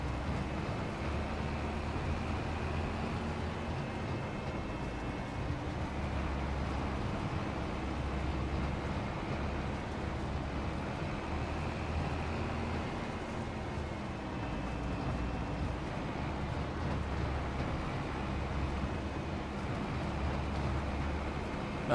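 A Tri-6 tractor engine in the Farming Simulator 25 video game runs with a steady, unbroken low drone that holds at an even level throughout.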